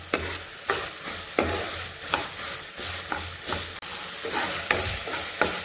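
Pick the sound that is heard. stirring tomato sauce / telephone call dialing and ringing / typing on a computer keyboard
stirring tomato sauce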